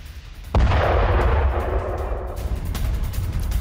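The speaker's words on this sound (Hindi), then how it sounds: "यह धमाका ये देखिए, रूस के कब्जे वाले इलाके में यह विस्फोट हुआ है" A sudden heavy blast erupts in a Russian-occupied area during the Russia-Ukraine war and rolls into a long rumbling roar that slowly fades, with wind-like noise continuing throughout.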